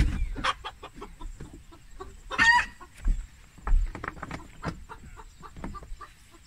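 Chickens cluck and squawk close by during a handling session on a backyard flock, with a burst of louder alarmed squawking partway through amid shuffling and handling noise.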